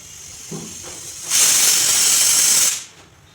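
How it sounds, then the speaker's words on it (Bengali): A pressure cooker cooking lentils releases a loud, close steam whistle, a sustained hiss of about a second and a half after a soft clank, then dropping back to quiet. "আমি এই ডালগুলোকে 6টি সিটি দিয়ে নামিয়ে নিচ্ছি।"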